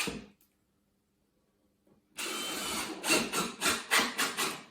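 A power driver sinks 2.5 by 40 mm screws into thin wood for a raised angled planter box, a loud whirring drive after a quiet start that pulses rhythmically in several surges as each screw bites.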